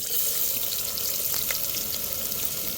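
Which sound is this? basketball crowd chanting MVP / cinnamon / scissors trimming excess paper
cinnamon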